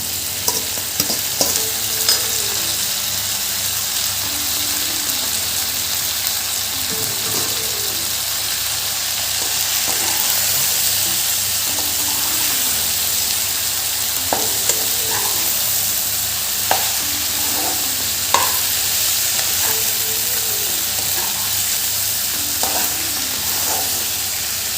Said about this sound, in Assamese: এতিয়া মই কচুখিনি দি দিম ইয়াত।